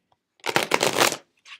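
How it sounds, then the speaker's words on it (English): A deck of tarot cards is corner shuffled close by, producing one quick, crisp riffling burst of flicking cards followed by a short soft tap. "You can see I'm doing the corner shuffle here"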